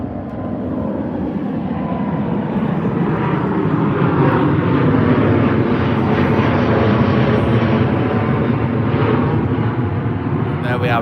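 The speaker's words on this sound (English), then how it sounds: "London Heathrow to New York City, Virgin Atlantic on their A350" A Virgin Atlantic Airbus A350 departs London Heathrow for New York with a loud, steady jet roar that swells slightly and stays broad and continuous throughout.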